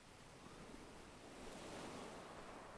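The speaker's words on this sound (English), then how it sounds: "you're listening to the gentle waves coming in" Gentle ocean waves come in on the shore as a soft, continuous hiss of surf that swells slightly toward the end, with a faint wind texture and no voices.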